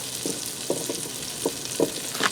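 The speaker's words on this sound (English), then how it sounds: "We're going to get them in that butter and we're going to lightly fry them for a few minutes." Gnocchi frying in butter inside a Ninja Foodi, a steady soft sizzle with several brief stirring scrapes at irregular intervals, close and moderately quiet.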